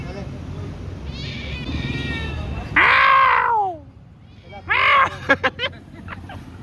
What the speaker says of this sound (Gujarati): અહીંયા મીંદડું પકડીએ છીએ પણ પકડાતું નથી.